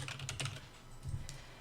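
Keys clack on a computer keyboard in a quiet room, a short run of soft taps with a brief pause between two bursts.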